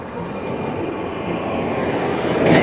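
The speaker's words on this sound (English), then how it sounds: "you can hear the jet flying over me" A jet aircraft passing overhead during an e-bike ride on the Bay Trail, heard as a broad, steady roar that swells slightly louder toward the end, with no talking.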